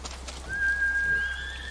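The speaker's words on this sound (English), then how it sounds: "Horse!" A horse in the Ghost of Tsushima video game gives a thin, rising whinny that holds steady for about a second over a constant low background hum, with no clear hoofbeats.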